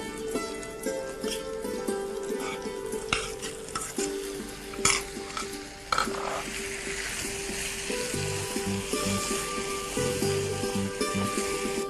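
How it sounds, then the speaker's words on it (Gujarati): A spatula scrapes and stirs paneer, spinach and softened onions in a hot pan, with sizzling frying underneath, repeated utensil knocks and clinks against the metal, and no talking. "હવે ફાઇનલી આપણે સબ્જી મિક્સ કરીશું."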